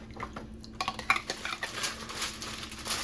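Aluminum foil crinkles and clatters as it is pressed over a pan of smothered turkey wings, with scattered metallic pan knocks and rustles close by, small irregular bursts over a faint steady background hum.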